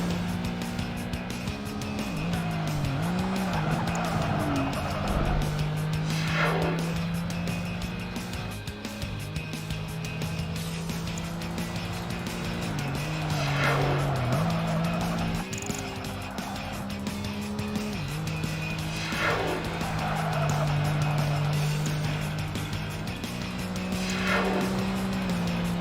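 Race cars from Project Gotham Racing 2 in a coupe series race, a continuous engine drone with pitch rising and dropping through gear shifts and repeated bursts of tire squeal at corners, no talking.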